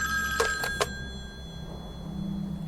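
A telephone rings late at night during a thunderstorm, giving three short bright rings in quick succession before falling quiet over a faint background hum.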